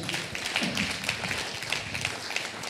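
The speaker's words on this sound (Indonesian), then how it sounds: "Tepuk tangan yang meriah." A church congregation at a Sunday evening service in Indonesia breaks into enthusiastic applause, a steady, dense wash of many hands clapping together in a reverberant hall.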